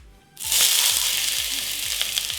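Sliced onions hit hot canola oil in a pan on a stovetop at medium heat, bursting into a loud, close sizzle that starts abruptly after a brief quiet moment and stays steady and crackling throughout.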